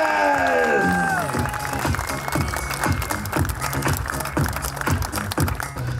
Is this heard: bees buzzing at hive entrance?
no